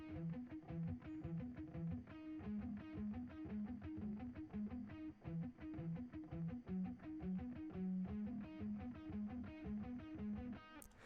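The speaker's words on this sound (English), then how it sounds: "I made this kind of chord progression to go with it, and it sounds like this" Distorted electric guitar plays a steady chord progression with effects, strummed chords ringing loud and continuous throughout, alone with no talking.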